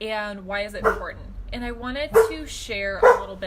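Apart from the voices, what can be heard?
dogs barking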